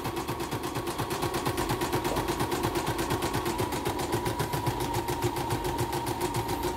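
A CNY E960 portable embroidery machine runs steadily after servicing, its needle mechanism producing a fast, even mechanical clatter that stays loud and continuous throughout, with no talking.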